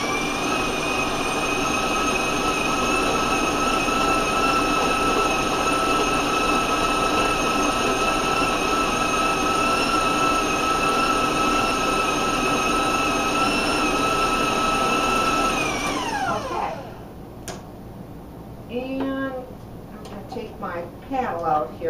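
A stand mixer beats chocolate Italian cookie dough at raised speed, a steady loud whirring hum with strong harmonic tones, running continuously until it winds down and stops near the end, followed by brief handling noises.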